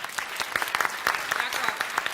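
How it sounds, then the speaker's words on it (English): Brief applause at a comedy talk show, a small crowd clapping with distinct, uneven individual claps over a short burst. "Y'all give her some applause."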